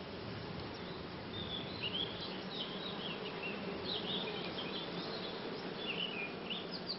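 Honey bees buzz in an open hive, a soft, dense, continuous hum with faint higher whines, heard close and steady with no talk.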